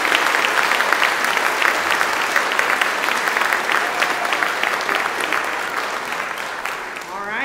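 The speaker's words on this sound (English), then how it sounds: "can we get a big round of applause for the staff and for the teachers here?" A church congregation gives a loud, sustained round of applause for staff and teachers, steady throughout and fading slightly toward the end.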